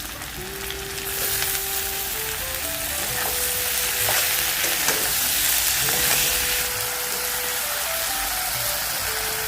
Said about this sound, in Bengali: আর সাথে টমেটোগুলোও দিয়ে ভালো করে একটু ভেজে নেব